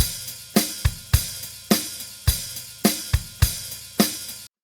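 Raw, unprocessed drum track from a mix: a steady groove of punchy kick and snare hits with short decays, dry and even, alone with no voices.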